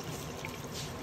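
Water is poured into a cooking pot of onions while preparing an Eid dish, making a steady, close splashing trickle that lasts about a second, with no talk.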